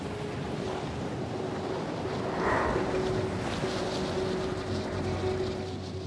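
Choppy open sea with wind around a drifting, broken-down motor cruiser: a continuous rushing wash of waves and gusting wind noise, with a slight swell in loudness midway and no voices.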